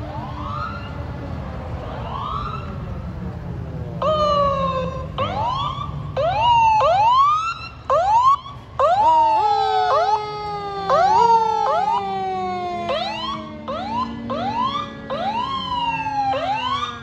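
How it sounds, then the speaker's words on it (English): Police car sirens wailing from several vehicles at a Glendale police scene, rising and falling sweeps layered and overlapping, loud and close throughout with a low engine rumble underneath. "hear more sirens, guys."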